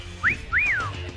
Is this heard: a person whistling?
yes